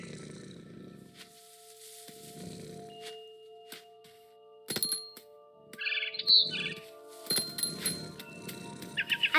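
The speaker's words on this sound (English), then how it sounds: "Then I heard chirping outside my window. It was a barn swallow going back to her nest." Short barn swallow chirps from the video game What Remains of Edith Finch, mostly later in the clip, over soft background music and muffled low voices, with a few sharp clicks.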